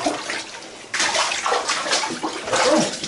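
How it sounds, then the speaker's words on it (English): Feet wade through water inside a tunnel, sloshing and splashing as the water is stirred up, with a surge partway through and continued swishing steps, close and fairly loud. "you can see you walking through the water"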